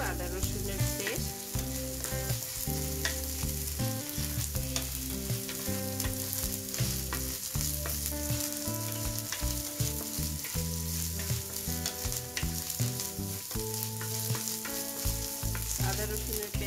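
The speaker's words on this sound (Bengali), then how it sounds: "আদা রসুনের পেস্টটাকেও আমি হালকা একটু ফ্রাই করে নিচ্ছি" Ginger garlic paste fries in a pan with lightly browned garlic and onion, making a constant near sizzle. Steady tonal background music plays throughout and no one speaks.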